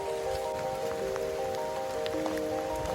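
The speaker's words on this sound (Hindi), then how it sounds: "बहुत जोर से बारिश हो रहा है यहाँ पे।" Heavy rain pours steadily on the way to Shivkhola waterfall near Jalpaiguri, a dense continuous hiss of drops on surfaces with a faint steady tone underneath and no one talking.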